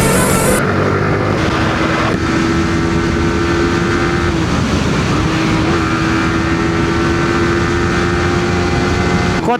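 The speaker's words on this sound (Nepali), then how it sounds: "ओ बाइक तर कस्तो स्मुथ कुदेको यार" A motorbike cruises smoothly along a road with a steady, loud engine drone and wind rush, holding an even tone throughout with a brief shift partway through.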